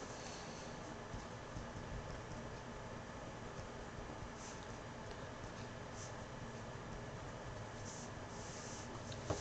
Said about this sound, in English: So, but let me write it here first.